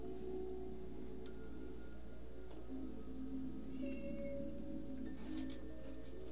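A cat meows several times, close and clear, its calls rising and falling over a steady background hum.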